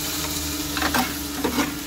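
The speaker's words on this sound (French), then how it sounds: "C'est Vinciane qui est en train de cuisiner." Almonds sizzle in a pan, a steady frying hiss with a couple of soft stirring scrapes, heard alone at moderate level.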